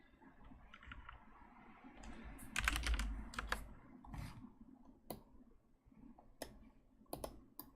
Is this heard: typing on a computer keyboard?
yes